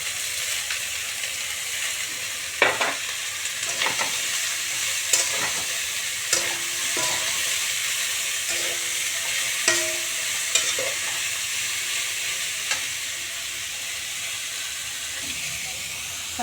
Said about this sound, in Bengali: কাঁচা লঙ্কা, এবারে সবজিটা দিয়ে দেবো।